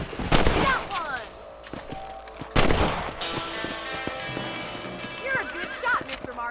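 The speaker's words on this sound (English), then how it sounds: "Get your rifle out. It's about time these little thieves met their maker." Gunfire from a rifle while hunting rabbits in Red Dead Redemption, two sharp, loud shots a couple of seconds apart, with horse hooves clip-clopping and game music and effects underneath.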